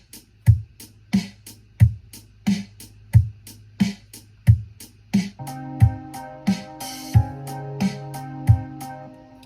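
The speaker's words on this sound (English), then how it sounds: "I built it like that, and then I added these drums to it" A dry, programmed stock software drum beat with a steady kick-and-snare pattern, later joined by sustained synth tones.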